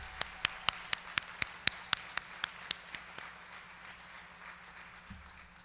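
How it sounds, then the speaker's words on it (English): At a college commencement ceremony, a run of about a dozen sharp, evenly spaced claps rings out, close and distinct, then fades and stops, leaving a quiet hall with a soft low thump near the end. "Please help me give them a well-deserved round of applause."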